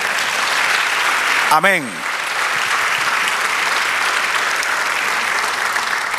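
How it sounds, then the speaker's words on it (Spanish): Congregation in church applauding, a broad, even wash of clapping that continues throughout, with a brief sung or spoken voice rising over it near the start. "Denle otro aplauso al Señor."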